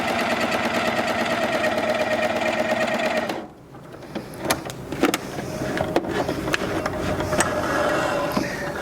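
A Janome Coverpro 900cpx coverstitch machine runs a chain stitch with a loud, fast, steady mechanical whir. It stops abruptly, and then come clicks and clunks as the fabric is handled.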